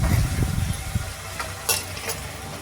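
Vegetables being sautéed in oil for sambar, with carrots and curry leaves, give a steady close sizzle and frying crackle broken by a few stirring scrapes, with no talking.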